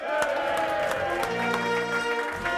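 Theatre audience at a Dutch political cabaret show, broad steady applause filling the room throughout without a break, with some sustained tones from music or a voice running underneath.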